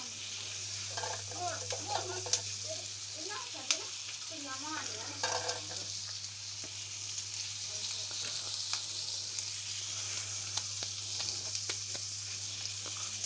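Tawa kaleji sizzles steadily on a hot griddle as chopped green chillies go in, with scraping and stirring strokes and a few sharp clicks over a constant hiss and low hum.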